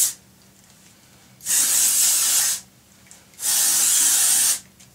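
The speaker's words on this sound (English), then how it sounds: "I'm going to just spray it all over my hair to give it lots of texture and volume" Texturizing hair spray misted over hair in two long, loud hissing bursts of about a second each, separated by a short quiet pause, with no talk.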